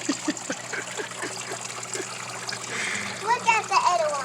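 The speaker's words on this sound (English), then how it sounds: "I'm getting my feet washed." A child's feet splash in the water of a kids' outdoor water table waterfall, giving light trickling and splattering that rise toward the end, while a child and an adult talk over it.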